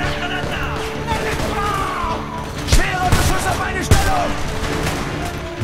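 Shots ring out in the video game Homefront as a few sharp bursts over steady game noise and battle sounds, with voices speaking throughout.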